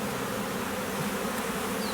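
A honey bee swarm drones continuously around a hive box, a dense close buzzing that stays steady and loud throughout with no voices.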